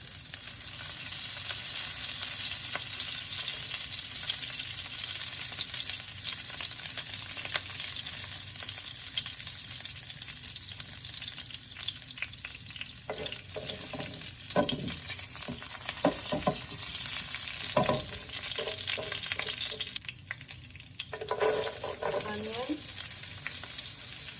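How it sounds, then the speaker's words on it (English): Curry leaves roast in a hot pan for a salmon chutney, a soft steady sizzle running throughout, with a few stirring clatters and scrapes near the end. "I'm just going to roast this up for a little bit. Some curry leaves."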